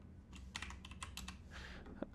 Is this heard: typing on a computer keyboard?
yes